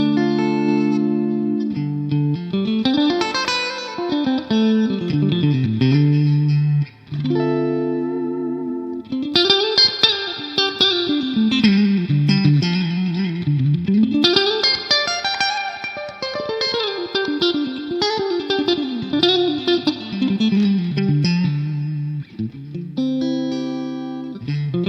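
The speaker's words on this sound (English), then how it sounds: "using the skanky neck and middle out of phase sound, I'm using a 212 Vox cabinet with a dynamic 57 microphone" Electric guitar played through a Vox 2x12 cabinet with neck and middle pickups out of phase, close-miked with a dynamic 57: a loud, continuous melodic line of thin, nasal, quacky notes and bends with effects, no talking.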